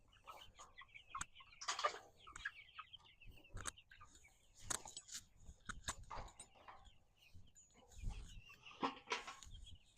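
Chickens clucking and murmuring nearby in quiet, irregular bursts, with scattered scratching and shuffling sounds around them.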